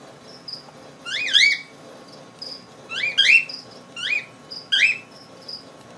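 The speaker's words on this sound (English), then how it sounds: "We got the best assortment of hand-tamed birds." Caged birds in a pet store let out repeated shrill, chirping squawks in short clustered bursts, several calls per burst, close and loud over a low background hum.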